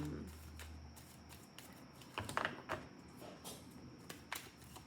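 Tarot cards are shuffled close by in a quiet room, giving a steady patter of soft riffling flicks with a few louder snaps, under faint background hum.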